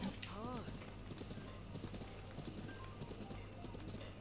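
Horse hooves clip-clopping in the video game The Legend of Zelda: Breath of the Wild, a steady patter of hoofbeats running under game ambience with a brief chirping call near the start.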